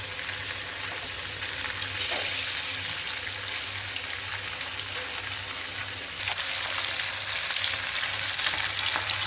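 Steady crackling sizzle of tilapia and other fish frying in hot oil with curry leaves, close and continuous, with a low hum in the background and no voices.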